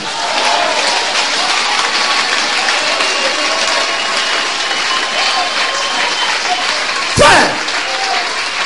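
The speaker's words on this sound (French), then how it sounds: "Acclamez pour Jésus." A church congregation claps steadily and loudly in sustained applause that fills the whole stretch, with a short thump near the end.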